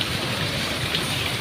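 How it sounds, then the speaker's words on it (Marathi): Moderate monsoon rain falls steadily as a dense, even hiss of drops on surfaces, fairly loud and unbroken, with no voices. "थोडाफार असा नॉर्मल पाऊस चालू आहे"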